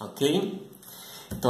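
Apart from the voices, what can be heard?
No distinct noise like a dog, phone or traffic.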